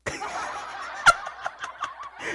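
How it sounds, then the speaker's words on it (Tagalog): A chicken clucks in short bursts with gobbling calls and one sharp squawk near the middle, close and fairly loud. "Yung manok ba, putak ng putak."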